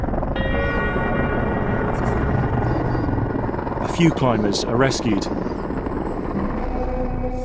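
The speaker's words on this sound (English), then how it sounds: "It's 24 hours before we see our first helicopter." A helicopter flies over Mount Everest during an earthquake rescue, its steady, loud rotor drone running throughout while someone narrates over it.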